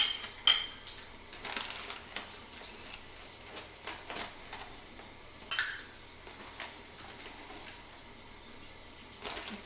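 A large spoon scoops flour into a one-cup measuring cup while making snickerdoodles, giving scattered light clinks and scrapes at uneven intervals, close up against a quiet kitchen background.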